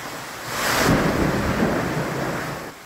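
Heavy rain pours during a localized thunderstorm over Metro Manila, a dense roar of rainfall swelling under a deep rumble of thunder that peaks early, then eases slightly.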